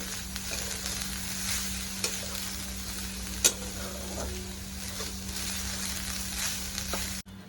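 Grated fresh coconut stirred in ghee in a pan over a low flame, a soft steady sizzle with faint scraping of the spatula, one brief knock, no talking.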